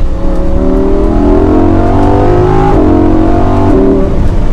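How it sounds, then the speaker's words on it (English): Lamborghini Huracan EVO engine accelerating in sport mode, loud and close, with a steady climbing roar through rising gear pulls and brief dips at the shifts, no talking. "We'll do one last acceleration. We're in sport mode"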